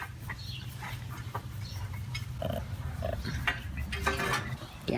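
A heavy pet pig of about seventy pounds lying down indoors gives soft, low grunts and snorts, close by, scattered over a few seconds with no talking.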